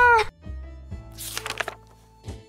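A cat in the survival video game 60 Seconds gives a short, clear meow at the start, followed by softer clicks and thumps of game sounds.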